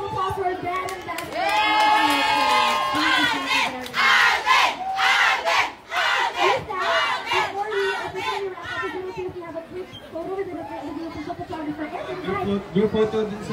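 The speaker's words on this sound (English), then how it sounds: "give a big round of applause for our band and band" A large crowd at a celebrity meet-and-greet in a shopping mall cheers and shouts loudly for a band, with screams and excited chatter carrying through the whole stretch.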